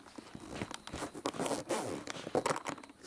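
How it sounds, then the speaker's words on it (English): The zipper on a PowerA Fus1on Tournament Controller carrying case is pulled open in a series of close, crisp rasping strokes, some short and some drawn out, with no speech. "It's a solid sounding zipper."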